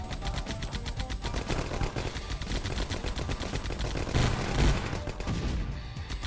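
Sustained automatic gunfire in the video game 9th Company: Roots of Terror, dense rapid bursts running continuously and loudly throughout, with a heavier blast near the end.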